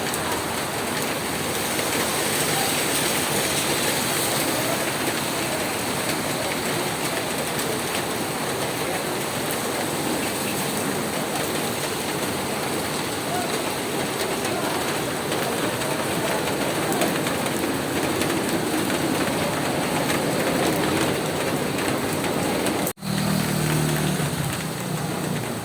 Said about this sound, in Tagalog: Nagkuha ko ng video kasi unang ulan ngayon ng taon